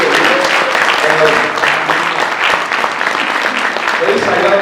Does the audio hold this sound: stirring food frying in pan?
no